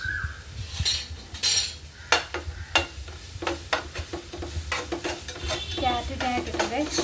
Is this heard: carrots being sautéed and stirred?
yes